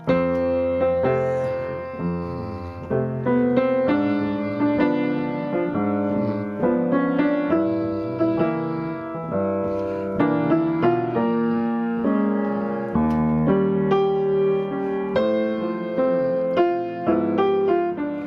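Jazz piano playing full, warm left-hand voicings of root, third and seventh in a low register, moving through a relaxed progression with melody on top, alone and close.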